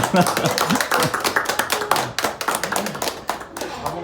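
Hands clapping in quick, uneven bursts at a baby's 100th-day celebration, close and fairly loud, with voices and laughter mixed in among the claps.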